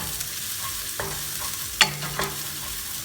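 Chopped chilies sautéing in a pan, with a low, steady sizzle broken by a few sharp clinks and scrapes of a utensil stirring against the pan.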